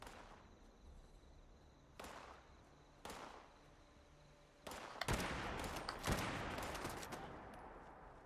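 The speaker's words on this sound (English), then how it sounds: "And now you started shooting." Gunfire in the video game Fallout 76: a few isolated sharp cracks spaced about a second apart, then a dense burst of rapid automatic shots, fairly close and loud against a quiet background.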